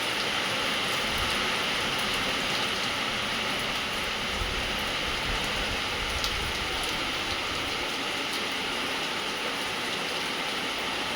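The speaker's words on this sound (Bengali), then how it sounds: "প্রচণ্ড বৃষ্টি পড়ছে।" Heavy rain pours down around a rooftop, a dense, constant hiss of drops on surfaces that stays loud and even throughout.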